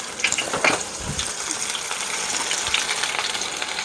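Sourdough cinnamon apple slices frying in a pan of hot oil, a steady close sizzle with crackling pops and an occasional clink, continuing evenly without talk.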